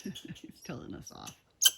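Squirrels at an off-grid cabin chatter and scold in quick rapid bursts of rough clicking calls, fairly close, with a short sharp higher note at the end and no talking over them.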